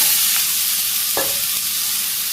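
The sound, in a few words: onion and vegetables frying in a pan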